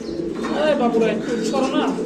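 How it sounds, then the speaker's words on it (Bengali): A pair of white King pigeons coo close by in short, throaty rolling phrases, heard with someone talking nearby. "এখানে আছে এক জোড়া কবুতর"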